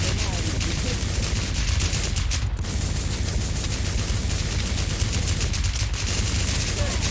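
Dense, continuous gunfire from the online zombie-survival shooter WarZ, with rapid automatic bursts and heavy shots filling the whole stretch, loud and close, with occasional voices mixed underneath.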